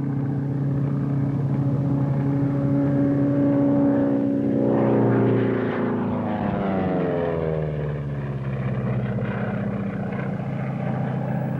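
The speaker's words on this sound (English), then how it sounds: "Doolittle marked his victory with a low pass at full throttle across the finish line." A 1930s-era racing airplane makes a low pass at full throttle, its loud propeller engine roar rising as it approaches, then dropping sharply in pitch as it sweeps past and fades.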